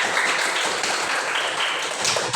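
An audience gathered for introductions breaks into applause, a loud, dense and continuous wash of clapping hands filling the room throughout.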